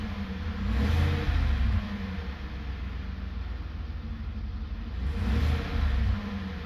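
Car engine swelling twice into low revving rumbles as the throttle opens, then settling back to idle between bursts, close and steady.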